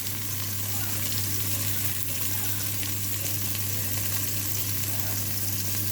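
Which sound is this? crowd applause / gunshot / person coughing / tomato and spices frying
tomato and spices frying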